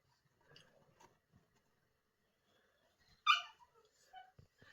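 An annoyed dog indoors by a door gives one short, sharp whimper amid near silence, followed by soft snuffles and faint rustling.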